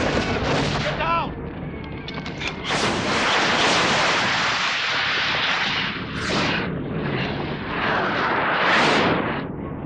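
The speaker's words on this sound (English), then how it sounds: "Unit ready for another bombardment." A loud artillery bombardment: heavy, continuous rumbling blasts and booms roll and swell throughout, close and dense, with faint shouting voices briefly audible early on.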